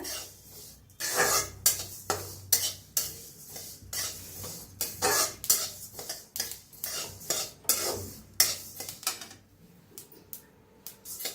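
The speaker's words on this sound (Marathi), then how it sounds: "तीळ चांगलं भाजलेलं आहे, तटतट करायला लागले ते" Sesame seeds dry-roast in a pan for sweet peanut poli, with repeated rhythmic scraping strokes of a spatula over a faint crackle, close and fairly loud, with no voices.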